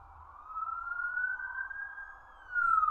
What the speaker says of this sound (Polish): Jakaś karetka przyjechała chyba.